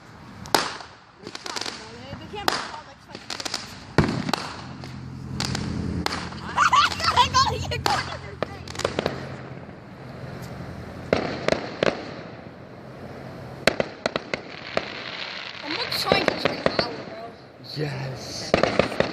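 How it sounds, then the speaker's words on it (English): Small backyard fireworks pop and crackle in scattered bursts and sharp bangs, some close and loud, some fainter, with people talking and laughing between and over the explosions throughout. "Yo, it's Pathetic fireworks!"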